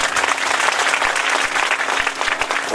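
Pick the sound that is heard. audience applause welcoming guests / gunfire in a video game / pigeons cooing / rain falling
audience applause welcoming guests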